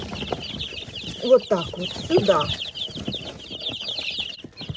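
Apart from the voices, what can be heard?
chicks being herded into a box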